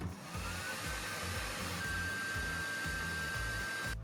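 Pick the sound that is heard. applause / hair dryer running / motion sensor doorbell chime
hair dryer running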